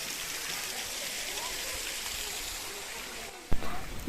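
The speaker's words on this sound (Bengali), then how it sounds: "জলের এই কলকলানি আওয়াজ তার সাথে রয়েছে ঝর্ণার এক শব্দ" At Moti Jharna waterfall, water babbles and rushes in a steady, broad wash, and a sharp knock or bump breaks through near the end.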